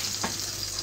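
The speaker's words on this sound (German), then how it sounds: "So, die haben wir jetzt in der Pfanne, die tun wir jetzt kurz links anbraten" Stuffed veal breast rolls fry in a pan, giving a brief, close, steady sizzle with a faint stir or shift partway through and no talking.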